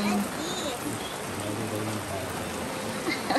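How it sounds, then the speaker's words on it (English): Heavy rain pours onto a tent at a camping and glamping site in Algonquin, a dense constant hiss of drops striking the fabric, with people talking quietly beneath it. "It's pouring."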